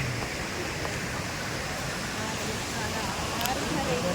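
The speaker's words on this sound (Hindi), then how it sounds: "इसके ऊपर है वो है झरना" Steady broadband rush of the Loth Jal Prapat waterfall at Mahuyadar in Latehar, Jharkhand, a continuous moderately loud roar heard from nearby, with faint voices over it.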